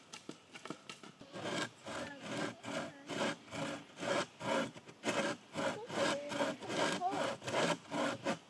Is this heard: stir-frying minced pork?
no